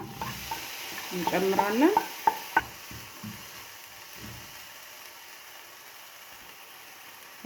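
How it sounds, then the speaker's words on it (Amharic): Onions sizzling in a frying pan with oil, stirred with scraping strokes; a brief loud sizzle and a few sharp clatters, then a quieter simmer, with a short spoken phrase. "ሽንኩርታችን እየበሰለልን ነው"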